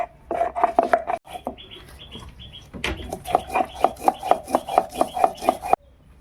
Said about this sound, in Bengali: জিরে বেটে নিলাম